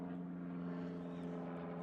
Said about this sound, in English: Loads of planes today.